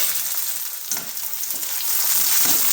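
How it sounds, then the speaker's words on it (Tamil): Chopped green chillies and onions sizzle loudly in hot oil in a pan while being stirred, with scraping stir strokes over the continuous frying hiss. "அடுத்து நறுக்கி வச்சிருக்க பச்சை மிளகாய் சேர்த்து நல்லா கிளறி விடலாம்."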